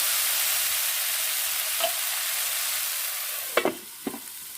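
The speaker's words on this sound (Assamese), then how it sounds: "এই মাছৰ জোল বনাবলৈ জিকা ভাজি লৈছোঁ" Ridge gourd fries in a pan for a fish curry, giving a steady, even sizzle throughout with a few sharp utensil clinks near the end.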